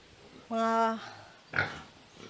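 Pigs on a Philippine farm: a short nasal squeal-like grunt followed by a rougher grunt a moment later, close by against a quiet pen background.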